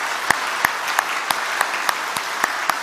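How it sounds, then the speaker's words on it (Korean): A church congregation applauds with steady clapping, some louder individual claps standing out in a regular rhythm. "우리 장로님들 박수 한번 합시다."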